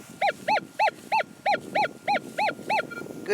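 A Minelab Equinox 800 detector with a 6-inch coil sounds off on a small gold target from a new sweep direction: nine evenly spaced, bright warbling beeps, close and clear with no talking.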